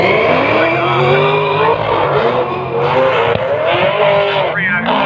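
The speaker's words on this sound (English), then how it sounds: "We're getting a lot of wheel spin out of both men, trying to get himself down the track at the moment." Drag racing cars launching side by side on a strip at the Riverland Nationals in Mildura with heavy wheel spin, loud sustained engine roar and tire noise, with a commentator talking over it throughout.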